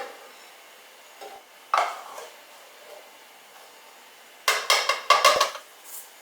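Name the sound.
scooping flour into bread maker pan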